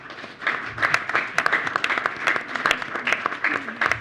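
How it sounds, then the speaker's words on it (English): A round of applause from a forum audience on downtown revitalization, steady dense clapping lasting several seconds with some talk underneath. "Can we give them a round of applause?"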